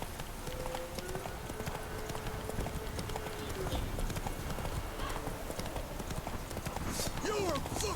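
Roach the horse galloping in the video game The Witcher III, a rapid steady clip-clop of hooves with a brief whinny near the end, mixed with game ambience and a voice talking over it.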